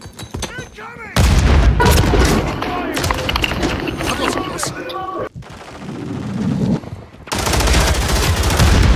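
Gunfire and a grenade explosion in a Warzone deathmatch: loud bursts of rapid shots and heavy booms, close and dense, broken by a brief lull, with voices shouting over the action.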